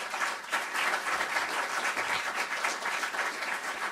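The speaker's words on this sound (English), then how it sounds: "Let's give them a big round of applause." Audience applause for a panel of speakers at a policy discussion, steady dense clapping from a crowd filling the whole stretch at even loudness.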